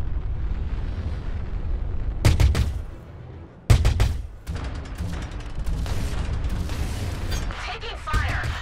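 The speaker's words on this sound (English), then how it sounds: "Taking fire!" Heavy ship weapons fire and explosive impacts during a Star Citizen space dogfight, with loud booming volleys and sharp cracks over a constant engine rumble, while a cockpit computer voice issues warnings.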